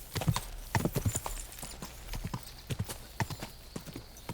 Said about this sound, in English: Go up the stairs with a horse.